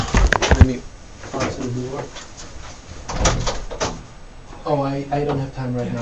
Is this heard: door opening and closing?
yes